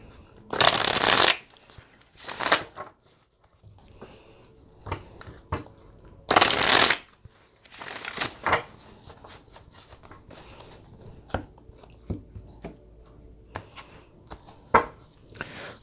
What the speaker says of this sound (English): I will be using the Archetypes and Shadows deck by Chuck Spezzano